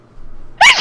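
A single sharp, loud sneeze bursts out near the end of a short quiet stretch, close and abrupt, with no talk around it.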